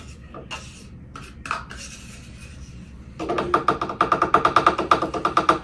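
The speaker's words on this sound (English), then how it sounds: "Give it a little stir." Rhythmic clinking of a spoon against a blender cup while stirring a smoothie, quick repeated taps after a few softer scrapes, close and fairly loud.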